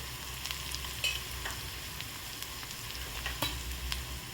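Chopped onion frying in a pan with red chili powder added for a dry potato dish, giving a steady soft sizzle with faint scraping stirs throughout and no talking.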